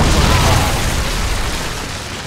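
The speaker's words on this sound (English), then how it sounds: "Predator missile inbound." A Predator missile from Modern Warfare 2 detonates in a loud, broad blast that rumbles and crackles steadily for a couple of seconds without any clear decay.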